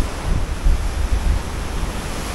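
A river in Mostar rushes loudly and steadily, a dense, continuous roar with low rumbling swells close by, and no voices.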